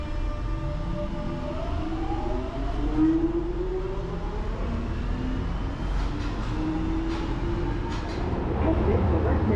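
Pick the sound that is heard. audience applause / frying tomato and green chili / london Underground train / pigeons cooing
london Underground train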